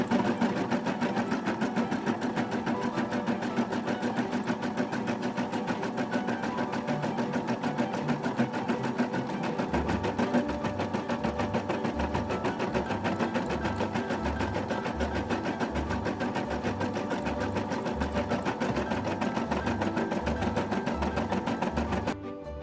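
An embroidery machine stitches a design in variegated thread on a hooped zipper pouch, a steady, close mechanical hum with a fast needle rhythm that continues unbroken and slightly shifts pace midway.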